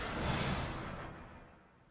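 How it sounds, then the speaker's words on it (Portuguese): Rain pours in the video game 428: Shibuya Scramble as a dense, steady broadband hiss that swells briefly and then fades away, with no voices over it. "A chuva não para."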